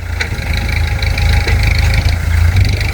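Steady, loud chugging of a walk-behind tractor engine close by in a rice field, a continuous low idling throb with mechanical vibration and no talk.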